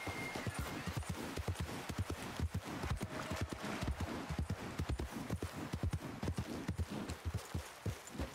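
Horse hooves clip-clop steadily in the video game Red Dead Redemption 2, a quick even rhythm of close, crisp strikes running throughout, with faint background ambience.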